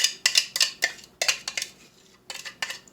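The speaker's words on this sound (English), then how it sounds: "Make sure to scrape out the bowl." A spatula scrapes out a mixing bowl of chocolate tofu pudding, giving a run of short, close clinking scrapes in uneven bursts with brief pauses between strokes.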